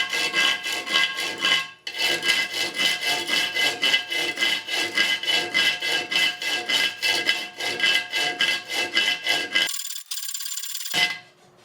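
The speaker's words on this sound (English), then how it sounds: "Let's go ahead and grind on a cinder block a little bit." A kitchen knife blade is ground back and forth on a rough cinder block in rapid rhythmic rasping strokes, loud and close, with a brief pause early on and a harsh scrape before the strokes stop.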